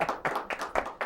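A few distinct, evenly spaced hand claps ring out in a studio during a pet-talk call-in show, sounding close and rhythmic rather than like a full crowd.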